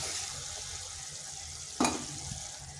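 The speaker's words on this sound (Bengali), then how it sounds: "এই মশলাটাও একটু কষে নিলাম" Spice paste sautéed in a pan for a vegetarian cauliflower curry, a steady close sizzle and fry with a single sharp scrape of stirring partway through.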